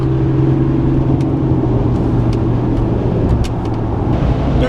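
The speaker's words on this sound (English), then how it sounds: "The car got to that speed like with no problem." A BMW E46 with a vacuum leak accelerates to highway speed of around 65 to 70 mph, giving a loud, continuous engine drone and road roar heard from inside the car with no talking.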